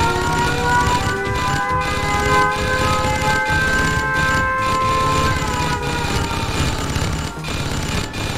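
Steady warning siren for a nuclear missile launch in Red Alert 2 on a snowy naval map, a sustained layered wail with rising and falling tones that holds loud and continuous throughout, with clatter of game action underneath.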